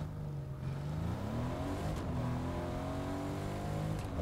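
A car engine drives steadily in Fortnite Season 2, a continuous close hum that rises and falls slightly in pitch as it moves, with no talk.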